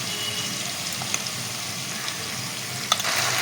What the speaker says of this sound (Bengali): এর মধ্যে আদা আর কাঁচা লঙ্কা বাটা একসাথে পেস্ট করা আছে, এটা দিয়ে দিতে হবে। এটা একটু ভাজা ভাজা হয়ে এলে